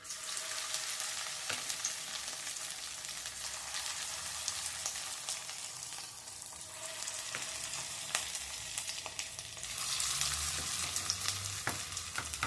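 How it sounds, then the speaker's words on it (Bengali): Chicken pieces for chilli chicken are dropped one by one into hot oil and fry with a loud, continuous crackling sizzle that swells briefly near the end. No voices are heard. "চিকেনগুলো এবার আমি একটা একটা করে তেলের মধ্যে ছেড়ে দেব।"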